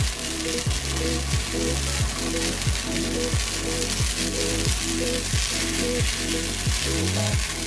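Steady sizzling and crackling from a sauce flambéing in a hot saucepan for Burgundy-style eggs en meurette, loud and close, with a repeating low tonal pattern running underneath.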